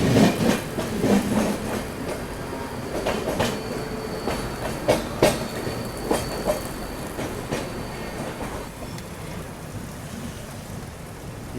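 A train arrives at CST railway station in Mumbai: steady rumbling and rattling of railway cars with repeated clanks and jolts, gradually easing, and no voices.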